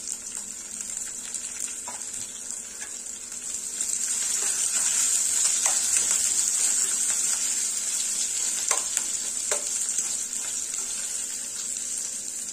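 Onion and green chili drop into a hot oil tadka and start a steady, hissing sizzle that grows louder partway through and then continues evenly, with no talking.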